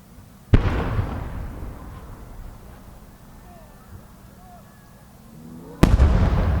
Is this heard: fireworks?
yes